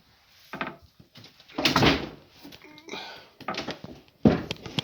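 A door being shifted and moved during a cleanup and winterization job, heard as several scraping, bumping knocks spread across the clip, with a person talking briefly in between.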